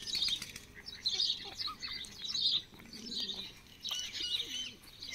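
Pigeons flapping their wings beside a lake in a park in Henderson, Auckland, New Zealand, with repeated fluttering bursts and bird chirps over a quiet outdoor background.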